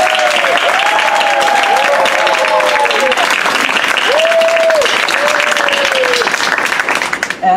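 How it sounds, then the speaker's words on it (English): Applause from an audience at a public event, a broad sustained wash of clapping filling the clip at steady loudness, with a voice or tone gliding through underneath and tapering off near the end. "I'd invite you to help thank him with another round of applause"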